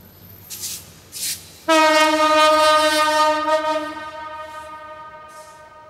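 Train passing, two short horn blasts followed by a long, loud sustained horn tone over rumbling noise, close and dominant, fading slightly toward the end.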